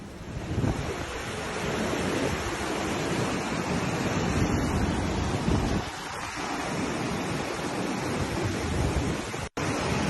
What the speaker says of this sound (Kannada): ನದಿಗಳೆಲ್ಲವೂ ಕೂಡ ತುಂಬಿ ಬೋರ್ಗರೆದು ಹರಿತಿವೆ